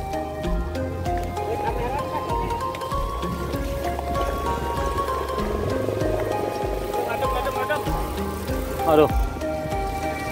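Heavy rain pelts a camera outdoors along a gas pipeline route, a steady dense patter over continuous background noise with a brief louder burst near the end, while a person speaks briefly.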